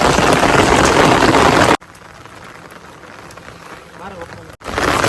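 Gentle rain falls steadily in Kutiyana, a loud broadband hiss that drops away abruptly for a few seconds before returning at full strength.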